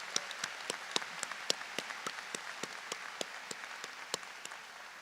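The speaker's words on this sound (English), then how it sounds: "I'd like to give you a round of applause for that." Audience applause at a 2024 medical school graduation ceremony, a steady wash of many hands clapping with a few sharper individual claps standing out, moderately distant and continuous with no talking over it.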